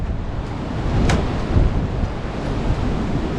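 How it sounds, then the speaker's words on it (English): Strong 40-mile-an-hour wind buffeting a microphone on an off-road trail with a 2006 Jeep LJ, a steady loud low roar with gusty swells and no talk. "Especially with a 40-mile-an-hour wind."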